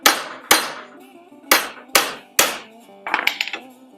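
A copper hammer taps metal six times in an uneven rhythm, each strike ringing briefly, followed by a quick flurry of lighter taps.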